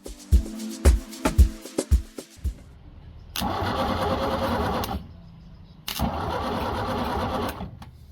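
A rebuilt Perkins marine diesel on a sailboat cranks with several sharp starter bursts, then catches and runs in two loud sustained stretches separated by a brief pause, close and rattly.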